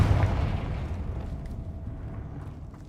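A Confringo blasting spell goes off in a video game, a loud low boom at the start that rolls into a long rumbling decay.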